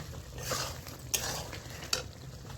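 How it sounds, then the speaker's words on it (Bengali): Chicken being stirred with chicken masala in a pan over gentle sizzling, with a few sharper scrapes of the utensil against the pan standing out. "তো এটা দিয়ে এবার আমি নামিয়ে নেবো হালকা করে একটু নাড়িয়ে। তো দিয়ে দিলাম চিকেন মশলা।"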